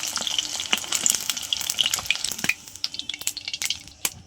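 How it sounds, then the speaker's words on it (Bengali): Eggs fry lightly in a hot pan with a bright, busy sizzle. Irregular pops and clinks punctuate it, and the crackle thins out slightly toward the end. "তো ডিমগুলো ভেজে নেব আমরা। করছি না, অল্প হালকা ভেজে নিচ্ছি।"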